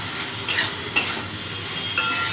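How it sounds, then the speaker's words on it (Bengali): Kochur loti (taro stolons) and prawns sizzle while being stir-fried in a pan, a steady close hiss broken by three sharp spatula knocks against the pan, with no voices. "ভালো করে একটুখানি কষাতে হবে।"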